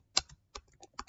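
Someone types a command on a computer keyboard, producing a handful of crisp, close key clicks in an irregular rhythm, with no talking.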